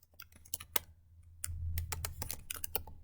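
Rapid, uneven keystrokes on a computer keyboard, close and fairly quiet, with a low hum underneath and a brief pause in the middle of the burst.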